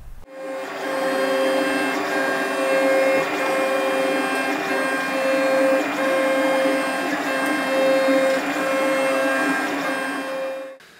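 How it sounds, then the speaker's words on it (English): A 3D printer runs steadily for about ten seconds while printing parts for a droid's centre foot mechanism, giving a loud, close, continuous stepper-motor whine in repeating tonal phrases, with no talking. "So the first one is printed."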